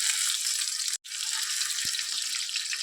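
Chopped onion fries in a pan with sugar, bay leaf and panch phoron for a spicy cabbage and potato dish. A steady, bright sizzle runs throughout, cutting out briefly near the one-second mark.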